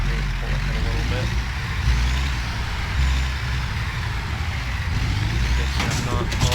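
A heavy truck in American Truck Simulator rumbles with a deep, steady engine drone as it pulls ahead, a few hissing air bursts near the end, while someone talks over it.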